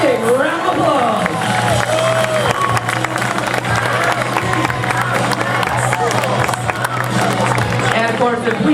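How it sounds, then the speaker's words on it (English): Crowd applause and cheering at a national show ski tournament, where a skier on shoe skis turns back to front; a broad, steady wash of clapping and voices fills the whole stretch with an announcer talking over it. "Let's give him a big round of applause."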